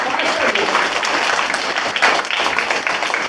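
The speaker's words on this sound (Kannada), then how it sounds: "ಒಂದು ಜೋರಾಗಿ ಚಪ್ಪಾಳೆ ಎಲ್ಲರೂ" A room of students, teachers and parents at a talk breaks into loud, continuous applause that stays full and even for over three seconds.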